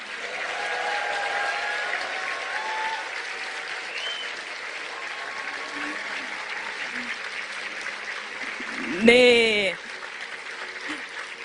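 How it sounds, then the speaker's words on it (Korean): A seated audience at a corporate lecture event claps in a steady, moderately loud round of applause, with a brief voice and a short bump of noise near the end. "박수 부탁드립니다."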